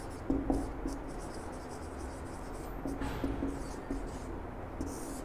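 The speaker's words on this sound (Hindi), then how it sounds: "एक तरफ हम लिखते हैं" Chalk or marker writing on a board during a classroom lesson, a steady soft scratchy rubbing with short strokes repeating across the clip, fairly close and alone with no talk.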